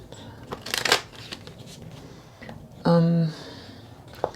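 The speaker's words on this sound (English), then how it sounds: "Just shuffling on my lap because I don't have a lot of room on the table." Tarot cards shuffled on a lap give a soft riffling rustle alongside a few handling noises, close and quiet, with a brief unrelated tone partway through.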